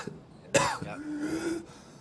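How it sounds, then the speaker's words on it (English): A character in the shooter game Escape from Tarkov coughs once, a sharp, close hack followed by a strained throaty rasp, with quiet game background around it. "My guy's head's fucked up right now. Like, he's coughing and shit."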